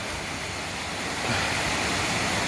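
Dunn's Falls in Maine pours as a steady, dense rush of falling water, an unbroken wash of white noise heard alone at moderate level.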